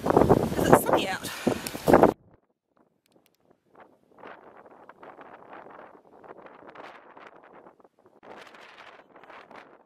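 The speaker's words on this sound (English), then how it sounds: "we're into the wind the whole way back" Wind gusting over the microphone on a sunny, cold lakeside walk, a steady low rushing and buffeting that rises and falls, with a burst of close talk at the start before the wind carries on alone.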